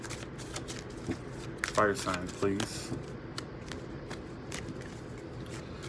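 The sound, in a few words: shuffling tarot cards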